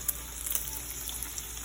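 Bacon frying in a pan for a breakfast burrito, a steady close crackling sizzle with small pops, continuous and fairly quiet, with no voices.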